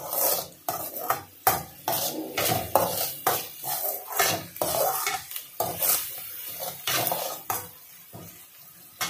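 A spoon stirs a turmeric tempering for poha in a pan, with repeated scraping strokes and metallic clinks in an uneven rhythm over a light sizzle, close and clear.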